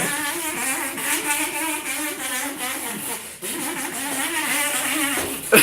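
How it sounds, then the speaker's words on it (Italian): A dirt bike's engine buzzes and drones steadily at fairly close range, its pitch wavering slightly, with no clear talk over it. "La moto da cross, questa è."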